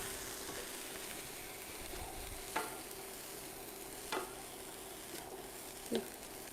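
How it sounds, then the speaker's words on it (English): Spring roll filling frying in a pan is stirred, giving a quiet, steady sizzle with three brief scraping strokes spaced a second or so apart. "I'll just stir these."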